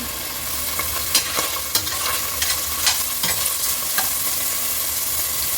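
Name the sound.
onions sizzling in oil while stirred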